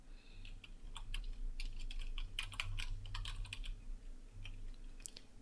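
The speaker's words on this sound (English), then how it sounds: "Just go ahead and type in the text that you want." Someone types on a computer keyboard while making social media images in Photoshop, producing quick, close, irregular bursts of key clicks with brief pauses between them.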